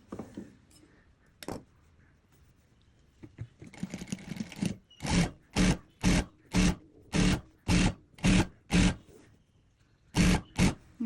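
A sewing machine stitches along the folded hem of a frock in a run of about ten short, even bursts of whirring, each one close and loud, with a softer burst of sewing early on and quiet gaps between the runs.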